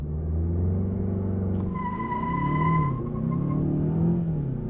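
A 2020 Mazda 6 launching hard with traction control off, its engine roaring loud and close as it revs up, with a brief tire squeal and shifting pitch as the wheels spin.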